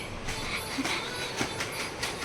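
A toy cartoon train brought as a birthday gift runs with a steady rattling, clickety-clack rolling sound at moderate level, with a few faint squeaky accents and no talking.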